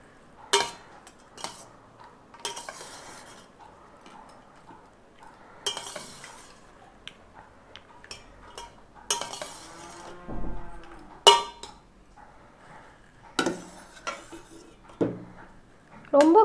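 Lemon rice is mixed in a pot with a metal spoon, giving scattered clinks and scrapes at irregular intervals, fairly close and light, with soft stirring rustles between the knocks.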